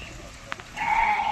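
A goat lets out a drawn-out bleat in a rainy village, rising clearly over a soft, damp background after a couple of faint clicks.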